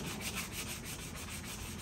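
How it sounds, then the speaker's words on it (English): Rhythmic back-and-forth scratching of sandpaper rubbed by hand on a wooden Yamaha bookshelf speaker cabinet, steady strokes repeating about every quarter second. "I'm gonna go ahead and give this speaker right here a quick sanding"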